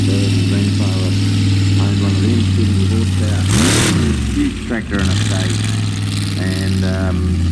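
A 1973 Leyland 270 tractor with a 70 horsepower engine runs with a steady low drone at an outdoor field day, while people talk close by.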